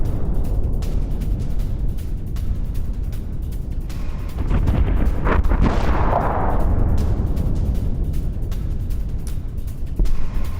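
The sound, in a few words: explosions from Russian strikes on Kharkiv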